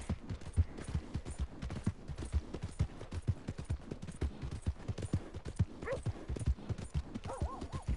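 Horse hooves clip-clop steadily on the ground in the video game Red Dead Redemption 2, a brisk, even rhythm of close taps with a short whinny-like cry near the end.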